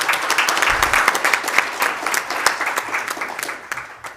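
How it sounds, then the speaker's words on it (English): Audience applause at a tourism report launch event in Namibia, steady dense clapping from a seated crowd that gradually thins and tapers off over several seconds. "Can we just applaud them as well?"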